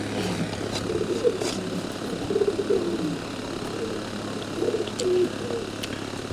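A breeding pair of pigeons cooing softly in a few low, rounded phrases against a steady background hum, with faint scattered chirps and rustles and no talk.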